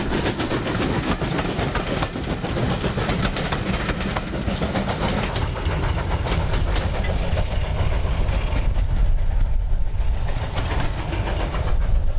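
BR Standard Class 4 steam locomotive 76084 rumbles past northbound at close range, a continuous heavy roar with rhythmic clatter of wheels, easing slightly toward the end.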